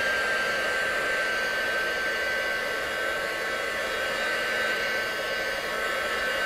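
A hair dryer blows steadily and loudly at close range, drying a wet marbled craft card, a continuous airy roar with no break and no talking.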